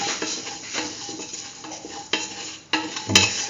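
A spoon stirs a mix of spices into a kidney bean and chayote stew, scraping and clinking against the pot in uneven strokes, with a soft simmering sizzle underneath and a sharper knock near the end.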